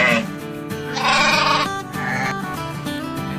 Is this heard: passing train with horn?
no